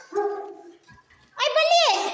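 A dog gives one short, tonal bark or yelp, then a higher whining yip close by, in a quiet setting.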